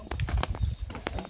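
A ridden donkey's hooves clip-clop on the ground in Chirilagua, giving a few irregular, close, moderately soft knocks.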